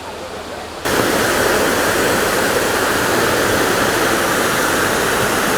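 A tall waterfall at Crater Lake National Park in Oregon roars as a loud, steady broadband rush, starting abruptly after a quieter first second and then holding constant, close and unbroken.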